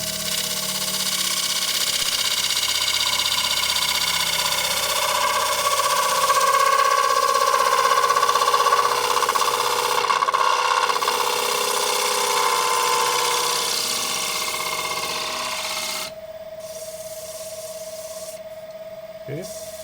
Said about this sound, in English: Now I want to get a finishing cut. I'll grab a larger bowl gouge.